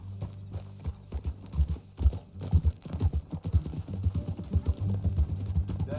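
Horse hooves clip-clop at a brisk riding pace in Red Dead Redemption 2, the hoofbeats close and uneven over a low steady drone, without any speech.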